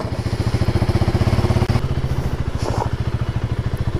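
A motorcycle engine runs close by with a steady, rapid, pulsing thump, loud and continuous throughout, with a brief clatter partway through and no talking.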